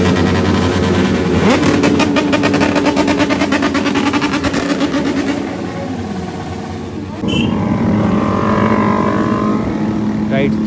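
Sports bikes and superbikes idle and rev at the start of an Independence Day group ride, a loud, close rumble of several engines with a rapid throbbing pulse, easing briefly before picking up again, with people talking over it.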